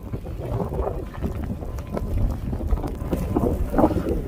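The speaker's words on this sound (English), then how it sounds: "Look at the wind." Strong wind roars and buffets the microphone during a heavy snowstorm in Montreal, Quebec, a steady rough rush with gusty surges and no clear talk.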